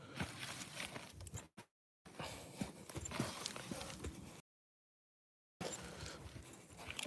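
Steady clip-clop of horse hooves walking on hard ground at a ranch gate, moderately close, with brief gaps of silence between stretches of rustling movement.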